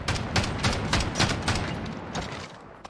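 Rapid bursts of gunfire from a Call of Duty Modern Warfare gunfight, sharp repeated shots in uneven clusters, fairly loud and close, no talking.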